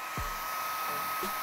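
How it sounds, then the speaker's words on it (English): A hairdryer runs steadily, heating the adhesive of clear protective film on a bicycle frame during installation. Its even airflow hum holds through the whole short stretch, close and moderately loud, with no voices. "what I'm going to use is a hairdryer just to heat up the adhesive to create a better bond"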